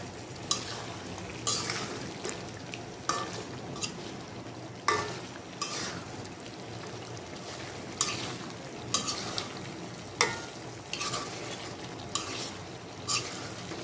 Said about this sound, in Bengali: ভালো করে নাড়াচাড়া দিয়ে দিলাম যেন জিরার গুঁড়াটা ভালো করে মিশে যায়।